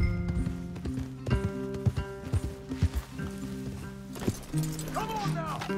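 Horse hooves clip-clop in a steady walking rhythm amid layered game music in Red Dead Redemption 2, with a brief whinny-like sound near the end.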